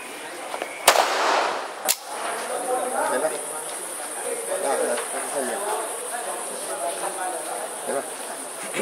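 Gunshots at a police tactical firearms training session: two sharp, loud cracks close together near the start, followed by chatter from people and a steady insect-like whine through the rest.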